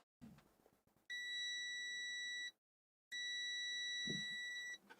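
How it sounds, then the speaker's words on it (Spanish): Two steady high-pitched electronic beeps from a multimeter continuity test, each lasting over a second with a short gap between, loud and close, with faint handling noise around them. "A ver si sentís el pitido."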